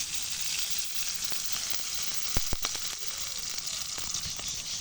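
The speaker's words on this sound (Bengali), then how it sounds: "পেঁয়াজগুলো লাল লাল ভাজা হয়ে গেলে তারপরে আমি মশলা দেব" Onions and green chillies frying in oil in a pan, an even soft hiss of sizzling with a few brief pops and stirring clicks, no talking.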